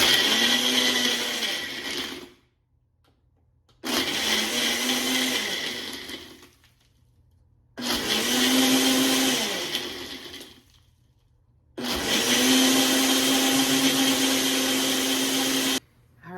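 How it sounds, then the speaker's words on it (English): A Ninja blender runs on its smoothie setting in four loud, close bursts of whirring motor noise. Each burst is separated by a short silent pause, and the pitch dips and climbs as the blades churn. "All right, this is a Ninja blender. So we're gonna get our top on here, and if you can see this, I'm gonna hit the smoothie."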